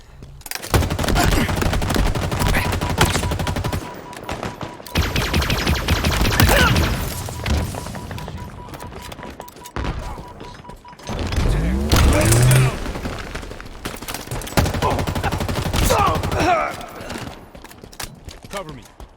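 Rapid bursts of gunfire in the shooter game Halo Infinite, loud and repeated in several volleys across the stretch, with a voice talking over parts of it.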